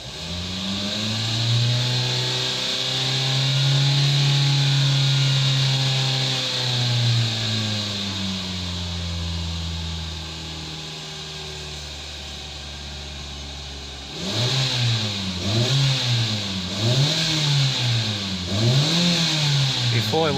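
A Hyundai Tucson with a rough idle and driveability problems has its engine revved several times. The engine rises and falls in long, smooth sweeps, then settles to a low idle, then gives a run of quicker, rhythmic blips near the end, while a person talks at times.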